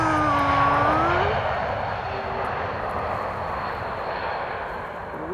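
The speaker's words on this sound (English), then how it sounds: "floaty E2 landing." Embraer E2 jet airliner landing at Amsterdam Schiphol Airport, a loud continuous engine roar with whining tones that drop in pitch early on, holding steady as the aircraft passes, no talk.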